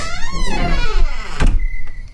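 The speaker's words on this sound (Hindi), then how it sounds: "अचानक दरवाजा धीरे धीरे चरमराते हुए खुलता है।" A door creaks slowly open with a long, wavering groan that rises and falls, loud and close, ending in a dull thunk and a faint high squeak.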